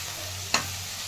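Fenugreek seeds fry in a pan with a soft continuous sizzle, broken by one brief sharp clink or scrape midway, close and fairly quiet.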